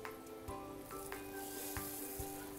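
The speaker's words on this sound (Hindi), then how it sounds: "बासमती राइस को बेसिकली मैं बहुत फैला के डाल रहा हूँ" Basmati rice is spread into a pot of boiling water for chicken pulao. A quiet bubbling hiss runs throughout, broken by a few soft taps and clinks from the pot, with no talking.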